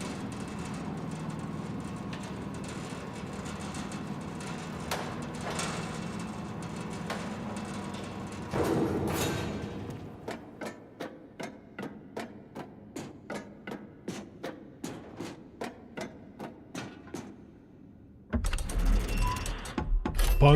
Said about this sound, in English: Man, this is a long elevator ride.